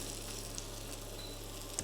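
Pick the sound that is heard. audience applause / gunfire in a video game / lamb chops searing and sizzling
lamb chops searing and sizzling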